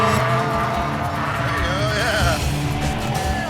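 Tires squeal and skid as a car is thrown into a handbrake turn, a wavering high screech rising and bending over a steady engine drone, with excited voices speaking over it.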